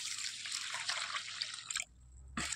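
Rice being washed in water makes a steady trickling, sloshing wash that briefly drops away before a short splash returns at the end.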